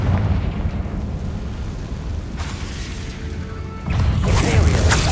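Confringo fire spell blasting in the Hogwarts Legacy video game: a sustained roaring, rumbling explosive burst with crackling debris that swells again into a second loud blast near the end.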